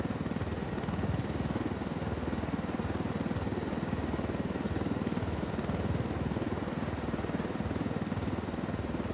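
A helicopter in the video game Ghost Recon Wildlands, a Blackhawk, holds a loud, steady rotor and engine roar that continues unbroken throughout with no talking.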